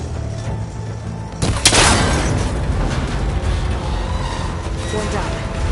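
A gunshot in Horizon Forbidden West strikes and breaks a cable connector on a rickety tower, a sharp burst followed by a sustained noisy rumble with game ambience underneath.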